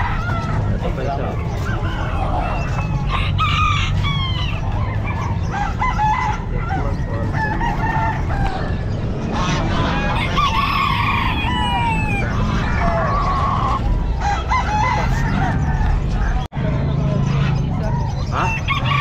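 Roosters crow repeatedly and hens cluck amid a crowded Calumpit pet market, with steady loud background chatter and bustle; birds of about six to seven months old are among them, and several crows overlap from near and farther off.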